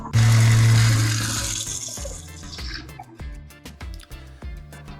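Fresh water runs from a tap fed by a water maker aboard a sailing trimaran, a strong burst of flow that tapers off into trickling and dripping.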